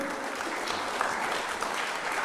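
A crowd at a South African national dialogue event applauds in a dense, steady wash of clapping that holds at an even level throughout, with no pauses.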